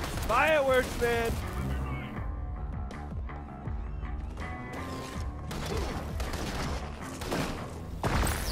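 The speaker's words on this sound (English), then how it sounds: "Fireworks, man!" Game fireworks in inFAMOUS Second Son crackle and pop in rapid, irregular bursts over a dense rumbling, mechanical-sounding backdrop, fairly loud and continuous, with a voice heard briefly at the start.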